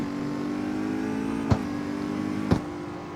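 Virtual Audi RS7 engine drones steadily at a sustained rev in a street racing game, with two sharp clicks or gear-shift pops cutting through the steady tone.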